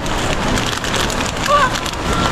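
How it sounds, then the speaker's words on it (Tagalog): Steady, dense hiss of heavy rain falling outside, continuous and loud throughout, with no voices. "Sobrang lakas ng ulan mga idol sa labas."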